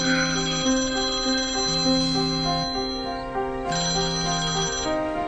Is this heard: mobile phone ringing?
yes